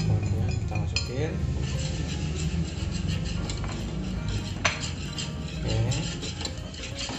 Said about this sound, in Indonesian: Nah ini pokoknya diaduk sampai rata, sampai hitam semua coklatnya.